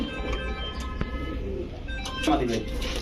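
Pigeons at a sale, a running pair of one cock and one hen, give soft low cooing near the microphone, with voices and market chatter going on around them throughout.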